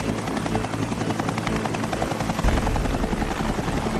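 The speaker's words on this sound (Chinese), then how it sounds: "他把直升机移到了下一个啤酒瓶的地方" A small helicopter, likely a remote-controlled model, hovers close over beer bottles during a precision stunt challenge, its steady whirring rotor drone continuous and loud throughout.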